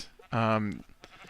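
A sheep in Minecraft gives one loud, close, wavering bleat lasting about a third of a second, followed by faint softer sounds.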